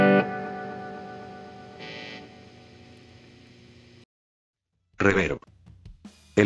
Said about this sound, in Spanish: El efecto de reverbo reverberación en realidad es un efecto derivado del delay